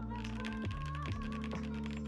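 Typing on a Command 65 mechanical keyboard: a quick run of soft, close key clacks with a few deeper thuds, fairly quiet, no voice.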